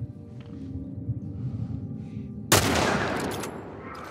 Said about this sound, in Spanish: No puedes seguir vivo después del balazo que te acabo de pegar